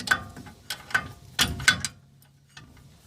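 A ratchet clicks in short bursts while tightening a bolt on a bracket of a Holden Rodeo 2.6, with sharp metallic ticks in uneven groups at close range and a faint low hum underneath.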